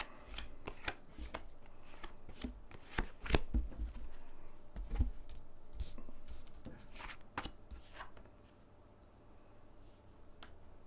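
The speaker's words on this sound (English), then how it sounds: "let's just lay down your 10 cards on the table" Tarot cards are shuffled and laid out on a table, giving soft crisp riffles and light taps in an irregular run, fairly close and quiet, fading toward the end.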